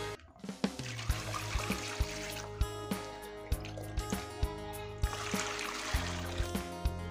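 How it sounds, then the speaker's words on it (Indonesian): Water is poured out with a scoop to mix a treatment solution for rotting, moldy porang tubers, making a steady rushing splash punctuated by regular sharp ticks close by. "langsung saja ya saya tuangkan airnya"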